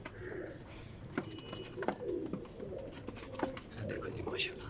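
Teddy pigeons coo softly in a caged breeding pair setup, low repeated throaty calls under steady background hiss, with scattered clicks and someone talking nearby.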